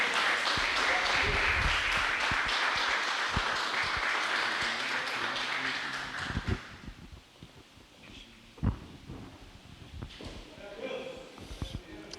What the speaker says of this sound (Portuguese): Então eu te convido a se colocar de pé e aplaudir ao Senhor Jesus pela vida do nosso pastor.